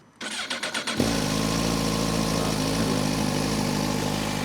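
A Japanese motorcycle engine cranks with a rapid starter whirr for under a second, then catches and settles into a steady, close idle.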